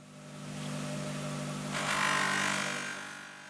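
A polishing machine buffs aluminium engine parts from a 1967 Jaguar E-Type, a steady mechanical whir that swells into a louder, brighter hiss as the buff bites into the metal partway through.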